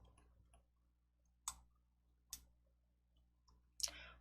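Sharp clicks from a computer mouse, three distinct clicks spaced about a second apart with a couple of fainter ticks between, close and quiet over a low steady hum.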